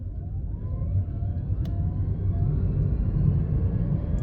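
A Changan E-Star electric city car pulls away from a standstill and climbs an uphill stretch, heard from inside as a steady low rumble of road and drive noise that swells gently as it gains speed, with no talk.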